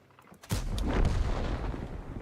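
A tank gun fires once in World of Tanks, a sudden heavy boom whose deep rumble rolls on for over a second.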